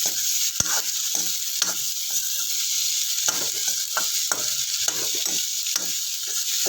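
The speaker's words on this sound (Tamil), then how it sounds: "பயறு நல்ல எண்ணெயிலேயே வதக்கணும்" Lentils stir-fried in oil for a Kerala dish make a steady sizzle and hiss, broken by repeated scraping clicks as a utensil stirs the pan, close and alone without talk.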